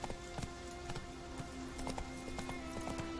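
Roach the horse gallops in The Witcher 3, a steady run of quick hoof clip-clops over a soft, rain-like ambient hiss, moderately close and unbroken by talk.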